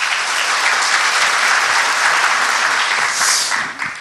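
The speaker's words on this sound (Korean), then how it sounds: "네, 박수 부탁드립니다." A hall audience at a public constitutional amendment debate forum applauds to welcome the Sejong Special Self-Governing City mayor, with dense, steady clapping filling the whole stretch before thinning slightly at the end.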